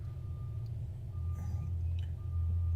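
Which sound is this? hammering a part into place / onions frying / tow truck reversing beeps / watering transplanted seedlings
tow truck reversing beeps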